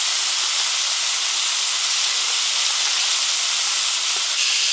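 Gambas and langoustines frying in olive oil in a paella pan, a steady loud sizzling hiss that runs unbroken from start to finish with no talk.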